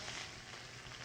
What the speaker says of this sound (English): Shrimp are cooked in hot olive oil.